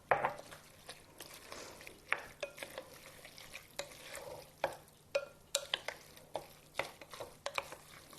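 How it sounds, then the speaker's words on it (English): Chicken salad being stirred and mixed with apple cider vinegar in a bowl: a close run of irregular scraping and clacking spoon strokes, with no talking. "Make sure that's all mixed around."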